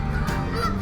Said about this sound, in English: very noisy, especially these geese, very big ones